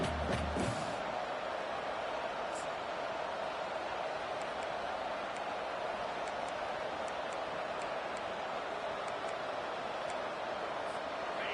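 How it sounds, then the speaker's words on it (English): Dense, steady roar of a large stadium crowd at a football game as the defense takes the field, a loud unbroken wash of noise with faint sharper bursts on top. "Listen to this crowd just shaking the girders of this place, trying to help their defense"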